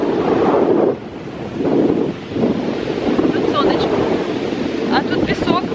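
Wind blowing sand outdoors, a loud rushing buffet over the microphone that swells and dips in gusts, with a faint voice briefly heard in the background.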